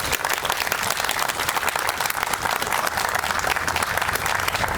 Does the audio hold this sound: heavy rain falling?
no